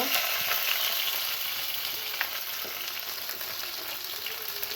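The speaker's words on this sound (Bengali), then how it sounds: "তেলটা গরম হয়ে আসছে, আমি এখন শুটকিগুলো দিয়ে দেব।" Dried kachki fish frying in hot oil in a pan produces a steady, bright sizzle with faint occasional stirring ticks, close and uninterrupted, without speech.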